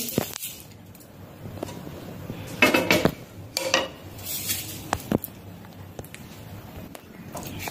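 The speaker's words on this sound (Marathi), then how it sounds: "आता आपण हे ओतून घेऊ एका डिश मध्ये" Dry-roasted spices are tipped from a pan into a dish, with a quick series of metallic clatters, scrapes and taps alongside a light rattle of falling spice.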